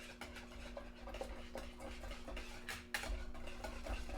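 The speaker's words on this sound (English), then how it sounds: "So while you're constantly whisking, keeps it nice and smooth." Hot cream being whisked into eggs for crème brûlée, a quick, steady clinking of a whisk against a bowl, soft and close over a constant low kitchen hum.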